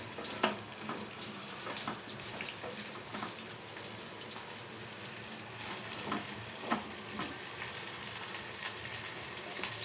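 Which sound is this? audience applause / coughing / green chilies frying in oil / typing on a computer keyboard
green chilies frying in oil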